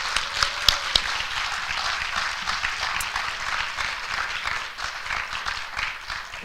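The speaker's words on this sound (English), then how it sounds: "Let's go ahead and give them a round of applause." Audience applauding award recipients at a Founders' Day celebration, a steady wash of clapping from a crowd that holds evenly for several seconds and tapers slightly at the end.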